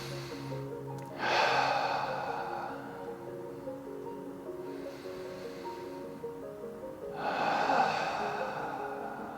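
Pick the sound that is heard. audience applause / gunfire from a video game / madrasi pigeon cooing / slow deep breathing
slow deep breathing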